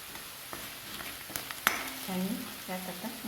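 Turmeric, coriander powder, garam masala and chilli powder for Kolhapuri misal sizzling in hot oil, a soft close frying hiss with a few spoon clicks and scrapes while being stirred.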